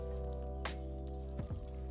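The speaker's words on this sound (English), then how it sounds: "I am cleaning off that price sticker with a Dollar Tree scraper and some soapy water" A Dollar Tree scraper works soapy water over a price sticker on a mirror, giving a couple of short, wet squishing scrapes against a steady background hum.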